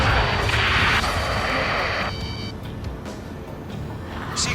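Thermobaric rocket explosion in the combat flight game Ace Combat 7, a loud, sustained broadband roar and rumble for about two seconds, then a lower continuous rumbling wash with faint tonal noise fading through the rest.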